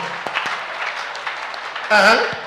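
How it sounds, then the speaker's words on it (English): Scattered clapping from an audience at a church gathering, moderately loud and fairly continuous, with a voice cutting in briefly near the end. "Clap for Dr. Jesus, everybody"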